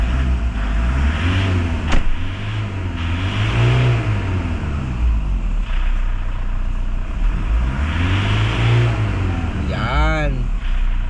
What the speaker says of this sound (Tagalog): pinapaandar lang namin ang pinapaandar yung Fortuner